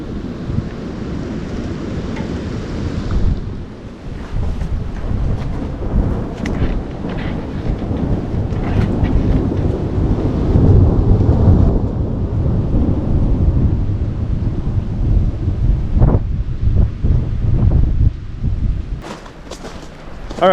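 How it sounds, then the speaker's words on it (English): A tornado-driven thunderstorm roars past a garage with metal siding, with loud continuous wind and rain battering and rumbling, a sharp break early on, then a sustained heavy gust-laden storm with no talk. "We're on the safe side of the wind."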